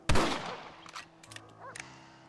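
A single sharp rifle shot in the Red Dead Redemption game cracks up close and rings out, then trails into quieter game sounds and small knocks.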